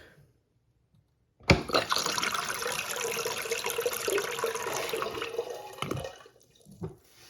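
A space-saver toilet flushes away a light dusting of cinnamon: a sudden loud rush of water after a quiet pause, a steady gurgling swirl for several seconds, then tapering off with a final gulp.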